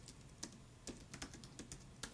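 Quiet, close typing on a computer keyboard while working on web code: irregular soft key clicks with brief pauses, a few sharper taps standing out, and no talking.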